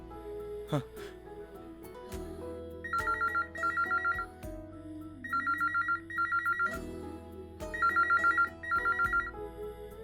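A telephone ringtone plays in three pairs of bright, repeating electronic bursts over a low background music bed, loud and close.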